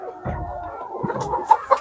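Andijan black chickens clucking in a few short, close bursts, with one or two sharper squawk-like calls near the end and no talking.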